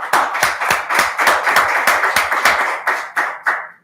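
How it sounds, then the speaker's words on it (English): Hands clap at a school board meeting in honor of the board members, a small group producing distinct, fairly loud rhythmic claps that thin out toward the end. "So with a round of applause."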